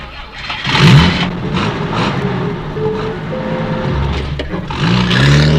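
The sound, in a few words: car driving off, story sound effect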